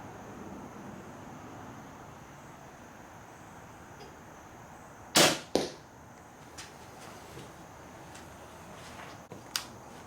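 A Horton Yukon SL crossbow fires a single sharp snap with a quick following thud near the middle, set against a quiet outdoor background with a few faint clicks afterward.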